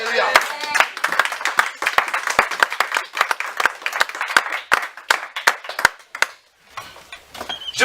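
A church congregation applauding during a sermon, with dense, uneven clapping from many hands that thins near the end, mixed with voices.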